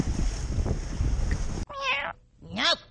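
Outdoors on a windy day while fishing, a cat meows twice in close, loud, rising-falling cries after a stretch of gusting wind noise.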